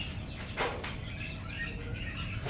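A pigeon-dove hybrid bird calls quietly, a few soft chirps and coos over a low, steady background hum.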